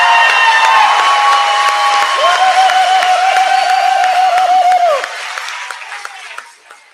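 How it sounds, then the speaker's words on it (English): A crowd applauds and cheers for a practical nursing class at a pinning ceremony, giving loud sustained clapping with whoops and a long whistle-like tone, fading sharply toward the end. "One more round of applause for this great looking class."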